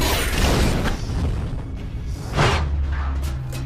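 A loud explosion from the Resident Evil: Apocalypse film, where Alice rides her motorcycle at a Licker and shoots it, booming twice amid dense, rumbling action-film sound with whooshing debris.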